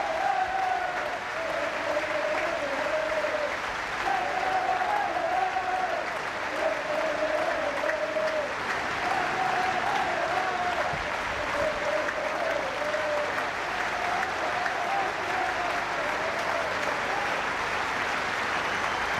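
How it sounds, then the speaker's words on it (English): A football ground crowd gives a steady minute's applause in memory of a Sligo Rovers fan, a dense unbroken clatter of clapping filling the whole stretch, with a faint voice drifting over it. "And the crowd generously applauding one of Sligo Rovers' most faithful fans, Andy Tiernan."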